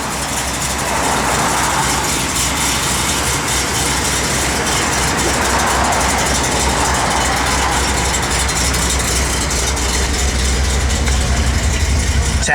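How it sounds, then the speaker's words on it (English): A 1970 Plymouth Cuda engine idles with a lumpy cam rumble, a steady, loud, close mechanical drone that holds without a break, with no speech over it. "Nice little cam to it though, so it's got a little rumble."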